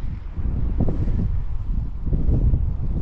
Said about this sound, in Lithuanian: Vėjas iš ten į ten eina.